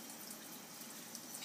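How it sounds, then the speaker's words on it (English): A steady stream of tap water runs continuously, a soft even hiss of flowing water with no voices. "I'm totally just doing it from the tap."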